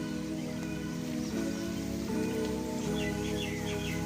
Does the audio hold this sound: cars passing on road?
no